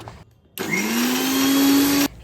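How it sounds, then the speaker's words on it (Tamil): An electric mixer grinder jar whirs steadily for about a second and a half, blending ginger, mint, lemon peel, salt and sugar for a Kerala-style lemon juice, starting and stopping abruptly. "சர்க்கரை ஒரு 3 டேபிள் ஸ்பூன் அளவு சேர்த்து மிக்ஸி ஜாரில் வச்சு ஒரு 2 சுற்று விட்டுக்கலாம்"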